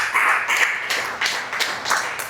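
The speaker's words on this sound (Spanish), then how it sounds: "Vamos a darle palmas al Rey de la Gloria." Church congregation clapping hands together in unison during Spanish-language worship, loud rhythmic bursts of claps in a steady beat, with no talking.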